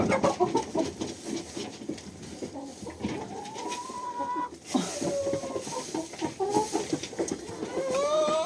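Chickens clucking and squawking nearby in a farmyard, with several birds calling over a busy, rustling background.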